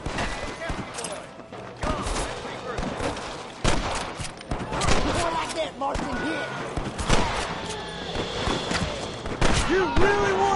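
Gunfire in a western shooter video game set at Pike's Basin, with irregular bursts of close, sharp shots and impacts over several seconds, mixed with shouting voices and background game audio.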